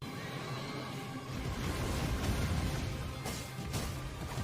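A horse neighs in a video game, a loud whinny layered over steady broadband game noise and rumble, with no voices.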